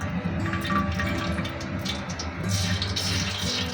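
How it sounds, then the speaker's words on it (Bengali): Cooking oil pours into a pot for biryani with a soft, gurgling liquid splash. The pour is fairly quiet and continuous, with some background clatter. "এখন তেলটা দিয়ে দিচ্ছি আমি আড়িতে"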